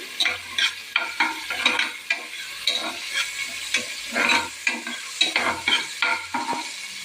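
A small finely chopped onion sizzles in a pan while being stirred, with repeated scraping strokes over a steady frying hiss and no talking.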